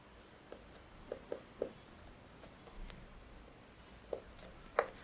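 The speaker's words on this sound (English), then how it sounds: "I will write here." A pen writing on paper or a board during a lecture, heard as quiet scattered taps and short scratchy strokes at uneven intervals over faint room noise, with no speech.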